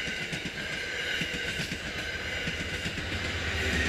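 A Metro-North commuter train passes close by, a steady loud rumble with rhythmic clickety-clack of wheels over rail joints and a bright hiss on top, continuous for the whole stretch.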